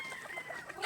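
Chickens on a game farm clucking softly and steadily, faint and close, no voices.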